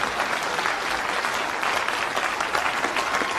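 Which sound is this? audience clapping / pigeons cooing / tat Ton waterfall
audience clapping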